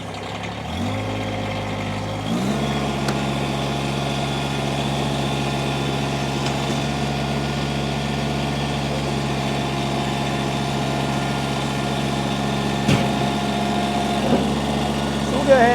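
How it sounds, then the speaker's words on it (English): A 2019 Kubota BX1880 18 HP diesel sub-compact tractor engine cranks and catches, then settles into a steady, loud idle with a constant mechanical hum and rattle. "I'm going to fire this tractor up."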